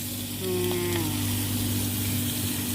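Steady broadband sizzle of mushrooms frying in a pan, continuous and fairly loud, with a brief tonal scrape near the start.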